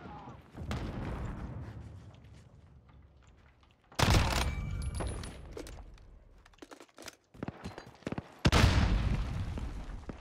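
Grenade and gun blasts from the game Modern Warfare make several heavy booms and sharp bursts. Each hits hard and trails off into a rumble, with quieter gaps between.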